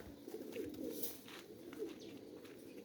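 Male pigeons coo softly in repeated low rolling calls, faint and close, with no talk over them.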